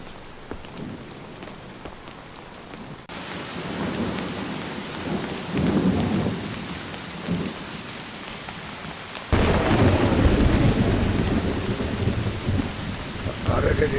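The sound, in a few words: heavy rain with thunder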